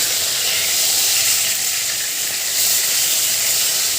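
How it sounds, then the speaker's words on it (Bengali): Marinated fish frying in a pan, a steady, loud sizzle that holds evenly throughout with no talking. "মাছটাকে ভেজে নিচ্ছি।"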